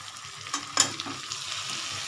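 Fried okra being stirred into masala in a kadai, a steady close sizzle with a scraping spatula stroke and a sharper clatter near the start, then even frying hiss, no talk.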